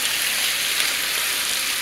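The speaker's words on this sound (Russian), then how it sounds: "Добавляем куриное филе" Chicken fillet frying in a pan makes a continuous, loud, dense sizzle like heavy rain, steady throughout with no talking.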